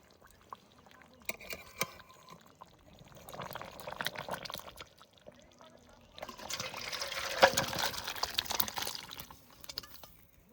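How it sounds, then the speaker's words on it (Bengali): Duck meat curry, cooked with new potatoes and chui jhal, poured out of the pot, giving soft wet pouring and dribbling sounds that swell toward the end, with faint clatter at moderate distance. "মাংসের তরকারি ঢালার আগে কত সুন্দর তেল ছেড়ে দিয়েছে। এবার ঢেলে নেবো তরকারি।"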